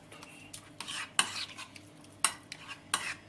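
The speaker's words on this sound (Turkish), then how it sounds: "Şimdi bunları güzelce ezeceğim. Harmanlayacağım." Chili flakes, sweet paprika and pepper paste being mashed and blended with a spoon in a bowl, giving a run of scraping, stirring strokes with a few sharp clinks against the dish, close and fairly quiet.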